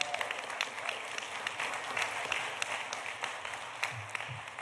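Applause from an audience at a student plenary session, a steady wash of many hands clapping at moderate distance, fairly soft and sustained throughout with no voices standing out.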